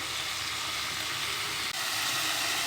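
Okra sautéing in olive oil in a pan for a sour okra dish, giving a steady, close sizzle and hiss that runs unbroken throughout with no voices.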